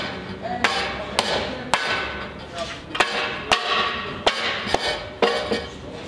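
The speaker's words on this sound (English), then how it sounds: "Then repeat the tapping procedure on the band clamps." A metal hammer taps on steel band clamps, about ten sharp ringing strikes at a steady, unhurried pace, each clank close and clear over a faint background hum.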